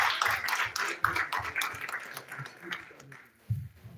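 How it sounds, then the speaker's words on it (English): An audience claps in a live podcast setting in the Bronx, a short patter of hands heard under and between a voice. "Let's clap for one more time just for reinforce"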